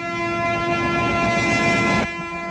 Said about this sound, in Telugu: ట్రైన్ స్టార్ట్ అయింది